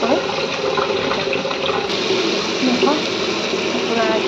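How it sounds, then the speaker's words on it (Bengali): Chili water poured into a cooking pan in a home kitchen, a steady gushing splash running unbroken for several seconds at close range, with no voices over it. "একটু লঙ্কা জলটা দিয়ে দিচ্ছি"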